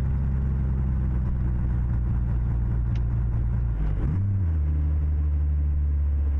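A Mack R700 truck engine in a video game drones steadily at idle-like pitch, then shifts briefly as the revs change around the middle before settling into a steady hum again.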